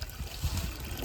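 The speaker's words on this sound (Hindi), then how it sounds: "पानी पकड़ लिया है, सब चालू कर देंगे, लेकिन पनिया भाई बाहर गिर जा रहा है पूरा" Water trickles and splashes steadily out of a leaking pump suction line in a village, a faint continuous outdoor dribble with no speech over it.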